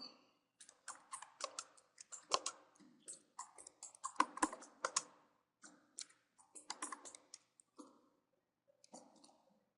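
Quick, irregular bursts of light clicky keystrokes on a computer keyboard, close and fairly soft, with short pauses between runs of typing and no voices.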